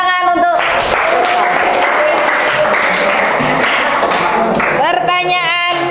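A classroom of students applauds a classmate's correct answer in a social studies lesson, a steady wash of clapping lasting several seconds at close range, with voices briefly audible before and after.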